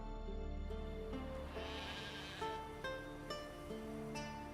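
Sheep in The Witcher 3 bleat over a steady game-world backdrop with layered music-like drones and a few short calls near the end.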